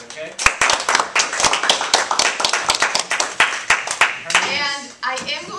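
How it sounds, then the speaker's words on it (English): A small school audience claps at a cyberbullying talk, a dense patter of separate hand claps that rings close and fairly loud, then thins out and fades with some stray voices near the end. "let's give a round of applause to our speakers"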